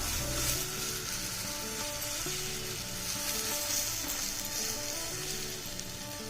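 Dosa batter sizzles and fries on a hot pan, a continuous bright hiss filling the background, close and steady, with soft background music underneath.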